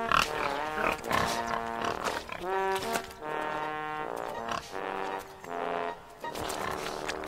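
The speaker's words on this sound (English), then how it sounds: "Thomas was watching the pigs roll in the mud." Pigs on a farm grunt and squeal in a series of drawn-out, fairly close calls separated by short pauses, with no speech.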